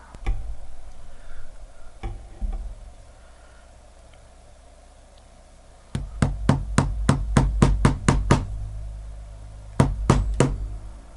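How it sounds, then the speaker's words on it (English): Sharp metallic hammer blows strike a Diesel Only the Brave DZ-1394 watch, a few isolated hits and then a rapid burst of about a dozen, followed by two more. "See what happens if I smack this with a hammer a couple times."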